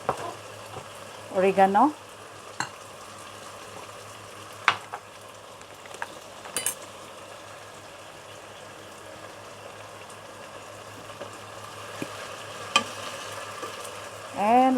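Chicken, mushroom and rice frying in a pan while being stirred, a steady low sizzle with occasional utensil scrapes and clinks, close by, with brief speech over it.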